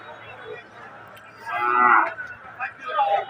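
A cow lows loudly at a livestock market before Eid al-Adha, a drawn-out moo rising over low background bustle, then a second shorter call.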